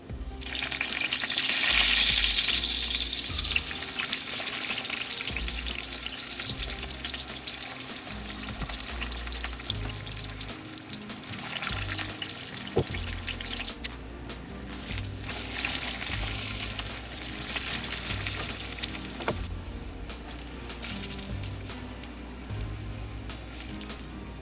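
Steady, loud sizzling of food frying in a hot pan, a continuous crackling hiss with occasional clinks and faint water splashes.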